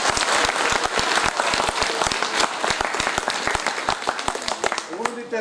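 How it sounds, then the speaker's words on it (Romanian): Theatre audience at a premiere in Slatina applauding loudly with dense, steady clapping throughout, a few sharper individual claps standing out, tapering slightly near the end. "ar trebui să merite încă un rând de aplauze"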